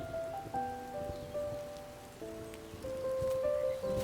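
Rain falls near a bird nest in the Korean DMZ, a steady close hiss of patter throughout, with sustained tonal sounds layered over it.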